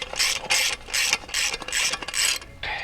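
An impact wrench rattles in rapid bursts while tightening a flare nut on the copper line of a MrCool 24K BTU mini split outdoor unit, about seven close, loud hammering pulses separated by brief pauses.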